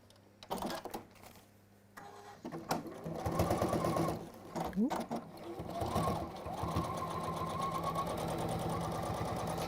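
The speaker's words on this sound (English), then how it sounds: "So let's just pop down, pop that line of stitching down" A sewing machine runs a line of stitching, starting after a pause with quick bursts and then settling into a steady, close mechanical whir.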